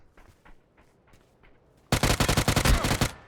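Rapid automatic gunfire in the battle royale game PUBG erupts partway through, a loud close burst of about a dozen quick shots after quieter distant pops and low chatter.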